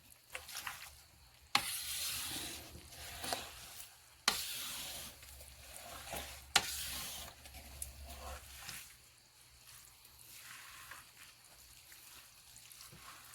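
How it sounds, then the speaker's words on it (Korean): A thick mash of glutinous rice and nuruk for a single-brew rice wine is stirred by hand in short, irregular bursts of wet, sticky squelching and scraping, separated by quieter pauses. "지금 이렇게 한번 저어주고요."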